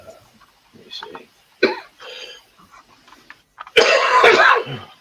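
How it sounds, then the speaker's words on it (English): A man coughs and clears his throat in short, close bursts, ending in a louder, harsher cough, with spoken words between them. "I've not been coughing for ages."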